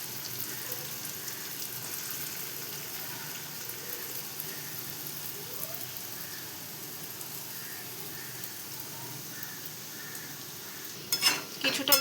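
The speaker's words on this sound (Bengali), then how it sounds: "তেলে এটা দিচ্ছি, আস্তে আস্তে ভাজবে।" Chhana koftas frying slowly in oil over low-to-medium heat give a steady, soft sizzle that holds even throughout, with a few brief clinks near the end.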